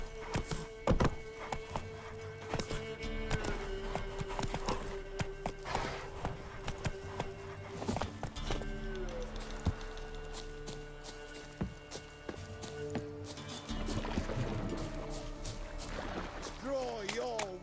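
Rhythmic hoofbeats of a horse galloping in the video game The Witcher III, with creaking tack and game background sounds; a few quick louder thumps punctuate the steady clip-clop, and a voice speaks briefly over it.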